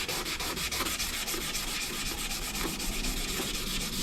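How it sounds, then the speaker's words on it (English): Wet sanding with 800 grit sandpaper on a Mercedes SLK230 under restoration gives a close, steady rubbing rasp in quick rhythmic back-and-forth strokes, with no voices. "make sure it's always wet. That's why it's called wet sanding"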